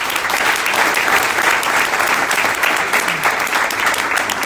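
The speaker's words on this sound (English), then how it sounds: "one round of applause for 24/6/9" A packed room at a founders-community masterclass breaks into loud, continuous applause, thick rapid clapping that holds steady throughout with no speech on top.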